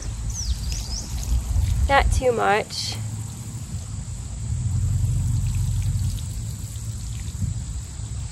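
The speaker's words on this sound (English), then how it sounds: "And then I'm gonna put water in the hole" Water poured from a container into a freshly dug planting hole for a lollipop standard tree, a soft steady splashing and trickle running for several seconds, with a brief spoken remark partway through.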